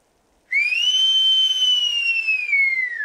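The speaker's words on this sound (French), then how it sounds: "C'est affreux comme vous sifflez." A person whistles one long, steady, slightly falling note that starts abruptly and holds for about two and a half seconds, loud and close with no voices.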